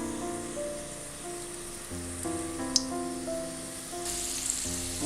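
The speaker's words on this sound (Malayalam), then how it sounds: "നമ്മൾ ഈ ഉണ്ടാക്കി വെച്ചിരിക്കുന്നത് എണ്ണയിലേക്ക് ഇട്ട് കൊടുക്കാം." Karanji pastries sizzle in hot oil, a steady, quiet frying crackle under soft background music, with one sharp pop near the middle.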